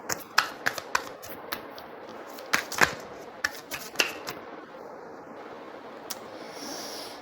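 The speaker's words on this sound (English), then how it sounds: "So many cards. So many times I shuffled" Tarot cards being shuffled by hand: crisp, irregular riffles and snaps close up, clustered in bursts with short pauses, thinning out toward the end.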